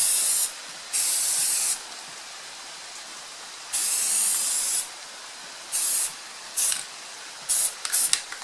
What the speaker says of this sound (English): So first I'm going to hit it with the high temperature primer